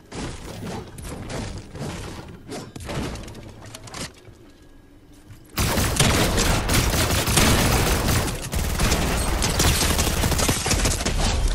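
Shotgun blasts in a video game shootout, loud sharp reports in scattered bursts, with a quieter lull before a dense, heavy volley of fire toward the end.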